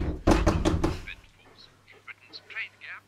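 Four heavy knocks thud against a door at the start, loud and close together, followed by a person speaking indistinctly in the background.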